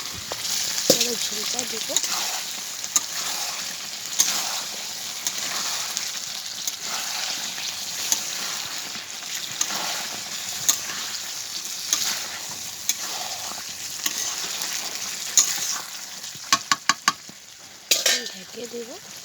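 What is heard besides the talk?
potatoes being sautéed in a pan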